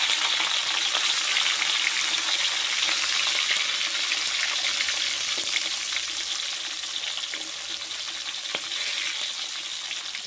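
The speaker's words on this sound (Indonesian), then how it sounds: "step pertama semua bahan ini digoreng ya sampai lunak" Sambal terasi ingredients with bird's eye chilies frying in oil over low heat, giving a steady, bright, close sizzle with occasional small pops and stirring, and no talk.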